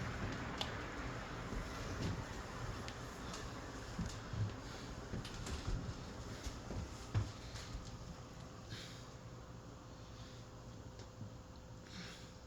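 An Envirofan Gold Line 160F-7 industrial ceiling fan from around 2015 winding down, giving a steady, low broadband whoosh with faint irregular ticks, fairly quiet and without speech.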